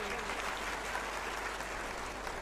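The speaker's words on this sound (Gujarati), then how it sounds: "ખૂબ સુંદર જોરદાર તાળીઓના ગડગડાટથી" An audience at a Gujarati speech event applauds in a dense, even wash of clapping that holds steady for the whole moment.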